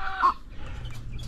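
Decaled white laying hens on a small egg farm give a short cluck, close and faint, over low background hum.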